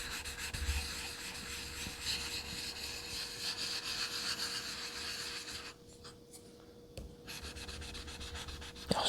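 A straight razor, a WM Greaves & Sons blade, drawn in small back-and-forth strokes across a sharpening stone with light pressure, giving a steady, close, continuous scraping rub that briefly pauses before resuming.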